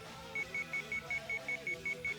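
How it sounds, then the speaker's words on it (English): Terror gauge alarm in the Sweet Fuse video game: a rapid series of about ten short, evenly spaced electronic beeps, steady and moderately loud over faint background music. "I had to stop the alarm"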